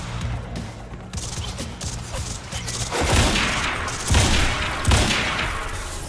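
Quantum Break gameplay: gunshots and crashing impacts build over a steady background of game noise, with a few heavier bursts recurring every second or so toward the end.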